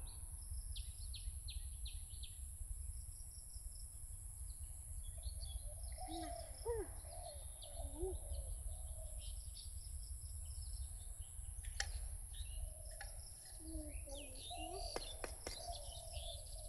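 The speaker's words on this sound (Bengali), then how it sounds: "ঘুঘু শুধু ডাকে, অনেকগুলো চারপাশ থেকে ডাকে।" Several doves calling from all around in an open rural setting near Moulvibazar, Bangladesh, soft distant coos and chirps over a constant insect drone and a high steady whine.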